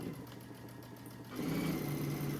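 A sewing machine runs a 1/8 inch seam down a craft bag, its quiet whirring stitch growing louder and busier partway through the short burst.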